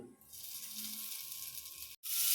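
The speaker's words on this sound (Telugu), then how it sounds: "ఒక కడాయిలో ఆయిల్ పోసుకొని 1 టేబుల్ స్పూన్, దాని తర్వాత పోపుల సామాన్ అంతా దానిలోకి వేసేయాలి" Spices, urad dal and chana dal for tempering sizzle in about a tablespoon of hot oil in a kadai. A soft, steady hiss with a brief break, faint and close, with no talking.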